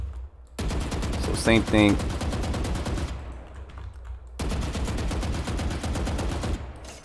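Full-auto rifle fire in the Valorant video game: dense, rapid bursts of gunshots run through most of the clip with a brief pause in the middle, loud and close, while someone talks briefly over the shooting.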